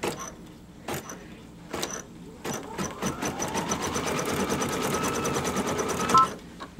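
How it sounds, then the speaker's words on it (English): An embroidery machine stitches a stipple pattern, starting with a few separate clicks and thumps before settling into a steady, rapid mechanical whir of needle strokes, close and moderately loud, with no talk over it. "lower my presser foot, and let it stitch."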